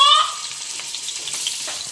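Pieces of boneless chicken fry in three to four tablespoons of oil, giving a steady, close, fairly loud hiss and crackle with no one speaking.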